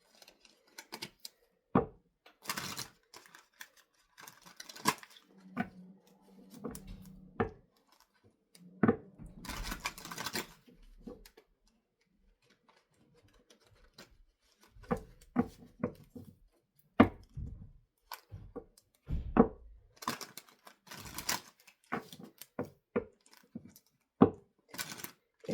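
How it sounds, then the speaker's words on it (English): Tarot cards being shuffled by hand, giving irregular soft riffles, flicks and taps in scattered bursts, close and fairly quiet, with no talking. "If I can get a proper shuffle in here"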